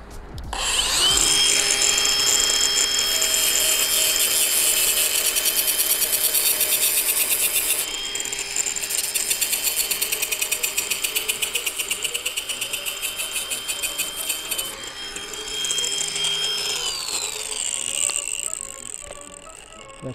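A cordless DeWalt battery power tool cuts through material for gopher exclusion wire work outdoors, a steady loud high-pitched whine with grinding friction running about eighteen seconds before spinning down.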